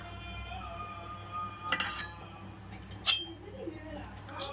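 A spoon stirs chilli flakes, salt and lemon juice with peri peri powder in a dish, giving two sharp metallic clinks about a second apart over a low, steady background hum.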